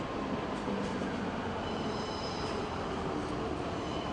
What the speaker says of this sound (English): Here we have an S8 service to Munich Airport.